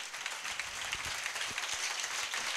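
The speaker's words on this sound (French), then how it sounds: "Vous allez lui donner un très grand acclamation" Sustained applause and acclamation fill a French-language worship service, a crowd clapping steadily and densely for Jesus, with a few low thumps beneath the wash of hands.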